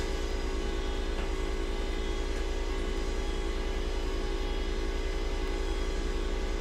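Boeing 727-100 in Microsoft Flight Simulator 2024 spooling up its number 3 engine, a steady, loud jet drone with a constant low rumble and whine that holds evenly throughout, no talking.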